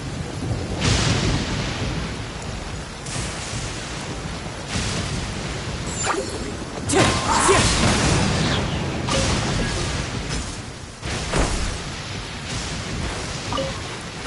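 A thunderstorm in the video game Genshin Impact: continuous heavy rain with rolling, booming thunder swelling and fading throughout, loud and dense with no voices.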